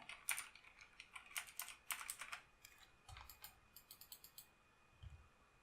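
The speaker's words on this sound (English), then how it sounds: "press F4 on my keyboard" Computer keys clatter in quick, uneven bursts, close and crisp, with a faint steady whine underneath and a couple of dull thumps near the end.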